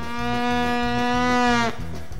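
A performer at a family Christmas stage show gives a loud, sustained vocal imitation of a cow mooing, one drawn-out moo lasting over a second and a half, heard alone and close.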